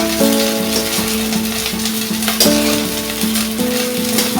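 Steady oily sizzle from Malabar spinach greens and fish frying in a pan, continuous and fairly loud, with sustained melodic tones running over it and no talking.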